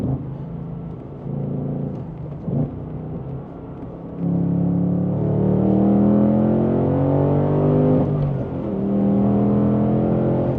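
A Ford Mustang Dark Horse with a six-speed manual accelerates through the gears, its engine note rising in pitch with each gear, breaking off briefly at the shifts before climbing again, heard from inside the car.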